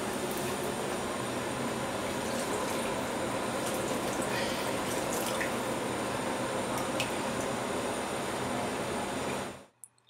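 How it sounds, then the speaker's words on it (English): Water is poured into a cooking pan that already holds boiled yellow lentils while an Indian dish is being made. A steady, close splashing and pouring runs without a break for about nine seconds, then stops abruptly. No one speaks. "I'll put some water in it."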